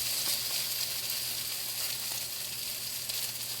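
Pork dumplings pan-frying and turned to crisp two sides, giving a steady, close, broadband sizzle that holds level throughout with no talking.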